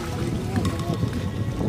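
A small motor dinghy's engine runs on the water beside a Cape Cutter sailboat, giving a low, continuous rumble mixed with wind buffeting while people talk nearby.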